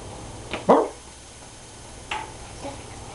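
A dog gives a couple of sharp barks, one louder and closer, then a softer yip a moment later, with quiet room noise between.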